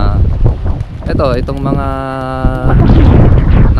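Strong wind blowing on a beach, a steady roaring rush of air buffeting the microphone throughout, with people talking over it.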